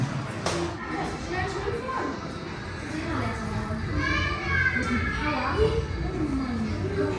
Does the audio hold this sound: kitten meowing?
no